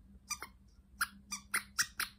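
A squeaky basketball-shaped bone dog chew toy squeezed repeatedly, giving about seven sharp, close squeaks in an uneven rhythm over a quiet room hum.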